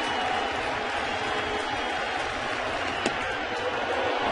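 A baseball crowd of nearly 28,000 at Citi Field fills the stadium with a steady, distant roar and murmur, one brief sharp crack standing out near the end.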